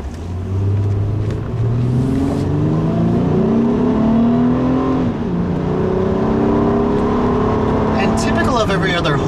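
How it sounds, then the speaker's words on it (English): The smooth V6 engine of a 2009 Honda Ridgeline RTL pickup revs up and down with rising and falling harmonic tones, close and loud, steady throughout with a brief rougher burst near the end. "the V6 engine makes some pretty pleasant noises as well"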